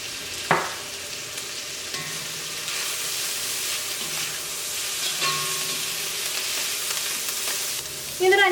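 Chicken with capsicum, coriander leaves and garam masala sizzles in a pan over medium flame, a steady close frying hiss with occasional stirring scrapes and clinks.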